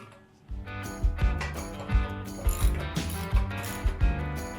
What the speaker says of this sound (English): Put a bolt in each hole before tightening them, and tighten the bolts progressively.